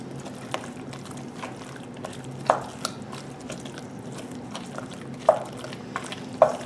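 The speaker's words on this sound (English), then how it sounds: "We'll keep stirring that in." Worcestershire sauce is stirred into a pan of cube steak over medium heat, giving soft scraping and wet sloshing strokes with occasional clinks of the spoon against the pan, close and moderately loud.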